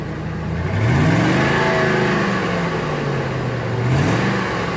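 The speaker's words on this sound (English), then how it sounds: "Go ahead and rev it a little bit." A car engine with a blown head gasket revs up, its pitch rising and falling in a couple of surges over a steady idle, close by and fairly loud.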